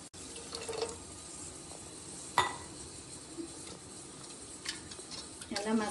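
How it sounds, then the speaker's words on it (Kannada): Water poured into a cucumber sambar mixture in a home kitchen, a soft, fairly quiet splashing wash with light clinks of utensils and one sharp knock partway through. "ಸ್ವಲ್ಪ ನೀರು ಹಾಕೊಳ್ಳೋಣ."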